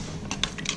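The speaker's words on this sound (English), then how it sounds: "We'll stir that in." A spoon scrapes and clinks against a pot while stirring sugar into spaghetti sauce, a few quick metallic taps in under a second, close and fairly quiet.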